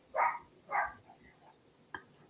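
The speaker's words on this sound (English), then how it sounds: "You hear her barking?" A dog barks a few times indoors, two short distinct barks followed by a fainter yelp, somewhat distant behind a quiet room.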